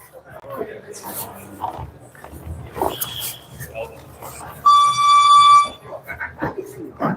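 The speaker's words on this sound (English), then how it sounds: "I was yelling at the timer." A kitchen timer alarm goes off for about a second with a loud, steady electronic beeping tone, sounding over a background of talk and shuffling noises in a room.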